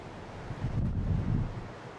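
Wind sweeps across the exposed clifftop at Cabo da Roca, Portugal, Europe's westernmost point, a broad rumbling gust that swells and fades over low surf-like noise, with no voices.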